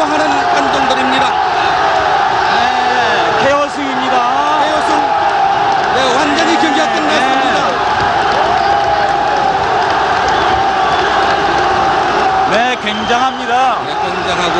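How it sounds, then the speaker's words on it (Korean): Loud, sustained roar of a large arena crowd at a professional boxing match, erupting after a right-hand knockdown and continuing throughout with cheers and shouts, while a commentator talks over it. "열광하는 관중들입니다"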